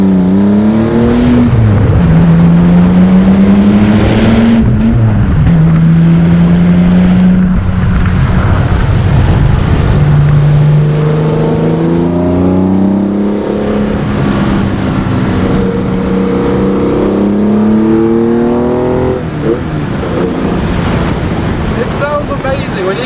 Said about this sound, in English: You get the carb induction sound rather than exhaust sound.